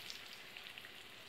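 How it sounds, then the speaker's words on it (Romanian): Supplì, Italian rice balls with meat, fry in hot oil in a pan, giving a dense, steady crackling sizzle with small pops throughout. "O să se prăjească."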